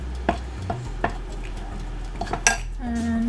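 Utensil clinks and taps against a bowl while rice flour ingredients are mixed together, a few scattered knocks and scrapes at close range, with no talk.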